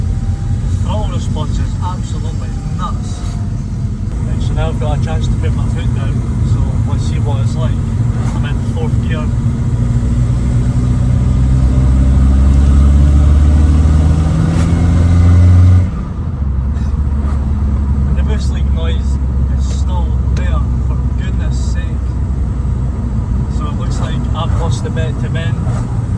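A 1.9 TDI diesel car with a 3-inch downpipe and no exhaust is driven hard, its loud, raw engine note rising under acceleration, then a brief drop before it builds again, with occasional talk over it.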